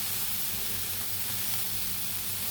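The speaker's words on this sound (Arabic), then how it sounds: "ونشوح بقى كله كده مع بعضه" Samosa filling sautéing in a pan, salt just added, gives a steady close sizzle and soft frying hiss throughout, with no talking over it.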